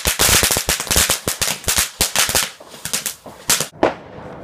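A Bonfire Night firework firing red hot flames into the ground, giving a loud rapid string of sharp crackling bangs that thin out and stop after a few seconds.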